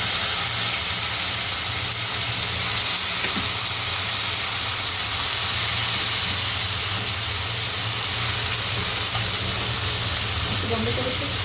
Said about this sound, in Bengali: পেঁয়াজটা বাদামি হচ্ছে,